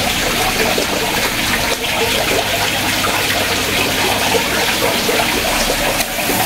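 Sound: watering flowers and rinsing glass with water

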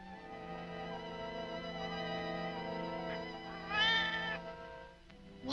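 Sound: cat meowing in a cage

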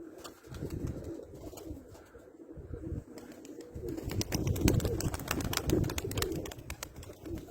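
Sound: pigeons landing after flight in wind

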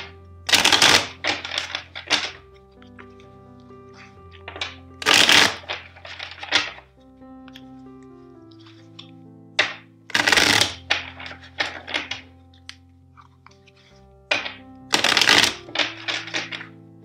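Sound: shuffling tarot cards

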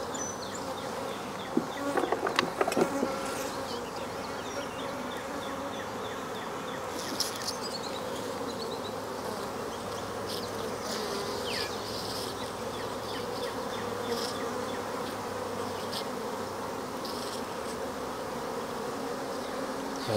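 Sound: honey bees buzzing during beekeeping

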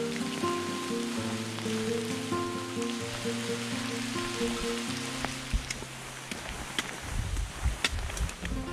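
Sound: rain falling in fog on a hiking trail

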